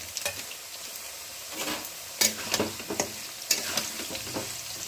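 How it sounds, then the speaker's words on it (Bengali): Potatoes with salt and turmeric frying in a pan, a steady sizzle with scraping stirs and clinks of a utensil against metal, no talking. "কিছুটা নুন আর হলুদ দিয়ে আলুটাকে আমি ভেজে দিচ্ছি"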